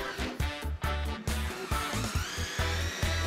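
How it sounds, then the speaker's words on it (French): A power screwdriver drives screws into the frame of an X40 concealed door, running in short repeated whirring bursts with brief pauses between them, close and fairly loud. "vous pouvez maintenant fixer le cadre dans l'ouverture. Commencez par le haut, puis vissez fermement."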